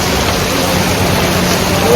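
Heavy rain falling in a village, a steady dense broadband wash with no breaks, close and loud throughout.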